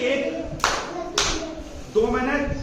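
Sharp hand claps in a classroom maths game, two distinct, close claps about half a second apart, with a teacher speaking between and after them.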